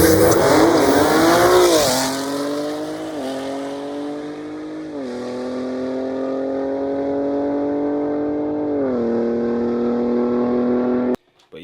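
Stock-turbo BMW G80 M3 pulling hard, its engine note climbing through several gear changes with brief drops between them, loud and close, with faint tire noise and no talk.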